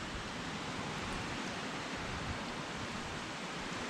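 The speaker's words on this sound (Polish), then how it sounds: "Teraz to są trochę fale." Small waves wash steadily onto the sand at Haad Rin beach on Koh Phangan, a constant, broadband surf hiss without distinct individual breaks, moderately loud and unbroken by voices.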